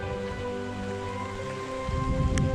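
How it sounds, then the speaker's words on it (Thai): Steady storm rain falls in a dense, even hiss on a mountain valley trail in Thailand, with a low background hum and a slight swell near the end. "ฝนเลยตกตลอดทั้งวัน"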